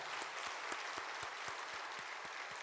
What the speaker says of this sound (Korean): 예, 박수하겠습니다.